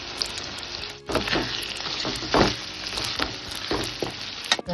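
A rice mixture with chili powder, coriander and egg sizzles and fries in a pan while being stirred, a loud steady crackle broken by scraping stir strokes.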